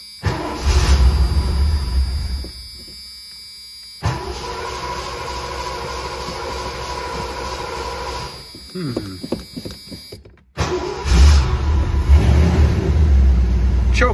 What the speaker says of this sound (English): So let's fire it up and see if that new cap fixed a little bit of a mess it had.